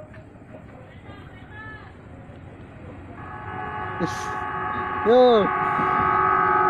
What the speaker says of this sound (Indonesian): Wih, nggak elektrik. Wih. Klakson elektrik.